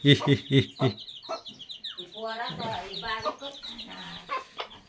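Several chickens cluck and chatter close by as grain is scattered for them in a village yard, a run of short repeated clucks followed by softer, busier calls, with a voice nearby at times.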